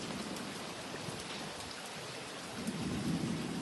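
Steady unseasonal summer rain pours down at a temple in Dharashiv, India, in a continuous hiss, with a low rumble of thunder swelling near the end; no voices.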